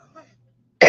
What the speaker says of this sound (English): I hope I don't start coughing again.